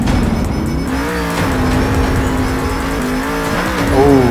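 Monster truck in the Monster Jam Steel Titans video game, Bakugan Dragonoid freestyle run, engine droning loudly while tires squeal and skid, with rising pitch and a harsher burst near the end.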